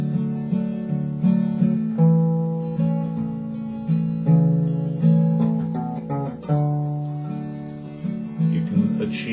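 An acoustic guitar strums a rhythmic accompaniment to the Irish folk song Wild Rover, thumb-picked bass notes mixed with chords and a short melodic run, each stroke ringing and decaying in a steady pulse, played alone with no voices.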